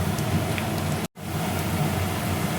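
Onions fry in mustard oil for Kerala-style paneer, giving a steady, dense sizzle that cuts out for a moment near the one-second mark and then resumes at the same level, with no talking.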